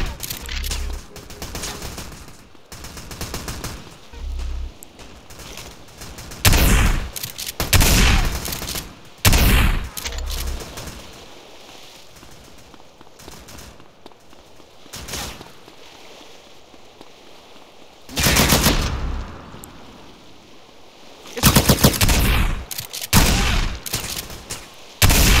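Gunfire in GTA San Andreas, repeated loud bursts and single shots scattered across the stretch, some in rapid clusters, with quieter gaps of ambient game sound between them.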